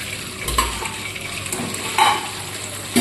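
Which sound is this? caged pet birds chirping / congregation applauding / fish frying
fish frying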